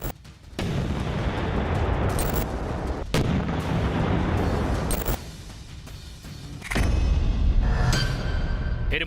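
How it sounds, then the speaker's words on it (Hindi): Artillery shelling rolls in sustained, loud bursts of heavy booming fire, several long roaring volleys separated by brief gaps, with no voices. "शुरू हुई गोलाबारी।"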